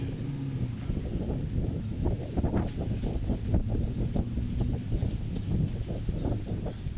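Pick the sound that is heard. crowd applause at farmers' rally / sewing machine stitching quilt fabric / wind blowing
wind blowing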